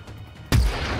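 A single shotgun blast in the Generation Zero video game hits hard after a quiet half second. It lands as one loud, close boom, and a dense rumbling tail fills the rest of the moment.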